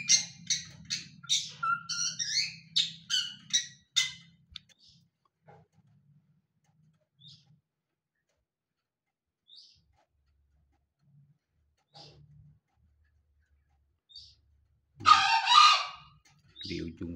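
Birds kept in a backyard aviary chirp and call in a rapid cluster at the start, then fall mostly quiet with sparse faint calls before another brief loud burst of calling near the end.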